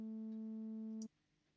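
A Serum synth tone through a 12-pole low-pass filter holds a steady, muted, hollow pitch with the highs cut away, then stops abruptly with a small click after about a second.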